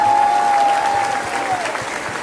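A crowd applauds at a church ceremony opening a Marian jubilee year in the diocese of Querétaro. The clapping is dense and sustained, with a faint tone running through it.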